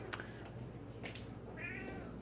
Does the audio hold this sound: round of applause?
no